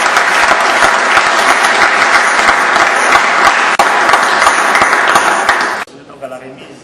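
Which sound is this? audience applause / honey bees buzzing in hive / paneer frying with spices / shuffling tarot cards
audience applause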